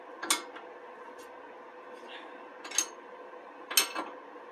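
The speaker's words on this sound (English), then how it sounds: "this one I'm going to extend it with a second wrench to really get that good torque in there" A wrench extended with a second wrench tightens a control arm bolt on a Mercedes W211 4Matic front suspension, giving three sharp metallic ratcheting clicks and clunks over a steady hum, close by.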